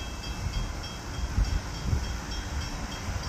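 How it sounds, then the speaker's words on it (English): Commuter train pulling into Orland Park's 143rd Street station, a steady low rumble and rolling rail noise with a faint high whine, heard alone at moderate distance with no talk. "Southwest service train number 822 to Chicago Union Station is now arriving."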